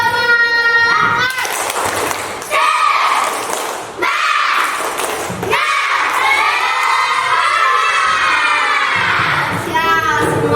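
Primary school class doing a rhythmic spirit clap: a few heavy clap-thumps in a set pattern, mixed with loud, excited shouting and chanting from many children that fills the whole stretch.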